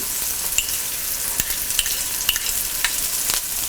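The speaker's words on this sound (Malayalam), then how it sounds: "3 ടേബിൾ സ്പൂൺ വെളിച്ചെണ്ണ ഒഴിച്ച് ചൂടായി കഴിയുമ്പോൾ ഇതിലോട്ട് നമ്മൾ കട്ട് ചെയ്ത് വെച്ചിരിക്കുന്ന ചെറിയ ഉള്ളി," Shallots and ginger frying in hot coconut oil give a steady, close sizzle, broken by scattered pops and spatters and the occasional scrape of a stirring spoon, with no voices.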